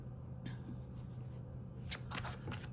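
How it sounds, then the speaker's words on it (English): A deck of tarot cards is shuffled close by, giving a soft, continuous riffle with a few sharper card flicks near the end, heard alone with no talking. "I already shuffled the decks."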